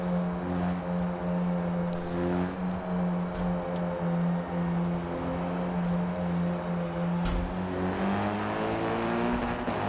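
Race cars roar off the start line in a hot hatch racing video game, several engines droning together and revving steadily, loud and close, with rising pitch as they accelerate and no talk.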